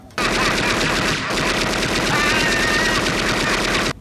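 Continuous loud machine-gun fire from a gangster movie scene, rapid rattling shots almost without pause, near and dominant, with only a short dip partway through.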